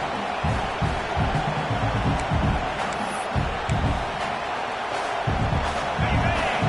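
Stadium crowd noise at a college football game, Oklahoma versus Georgia, a steady loud roar filling the space under a play-by-play voice that talks throughout.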